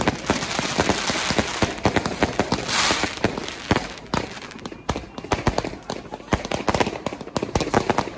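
New Year fireworks bursting over London, a dense, continuous crackle of rapid pops and bangs at moderate distance, with crowd noise and voices mixed in.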